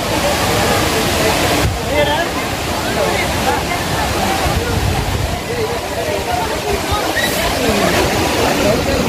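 Heavy, continuous roar of Aagayagangai waterfall in the Kolli Hills pouring down after heavy recent rain, loud and close, with rushing, splashing water throughout.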